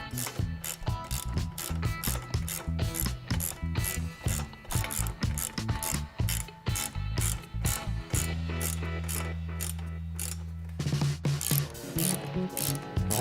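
Ratchet tightening carriage bolts with flat and lock washers on a roof rack for a 2010-2014 fourth-generation Subaru Outback. It gives rapid, loud, close metallic clicking in repeated bursts, then a brief steady hum near the end.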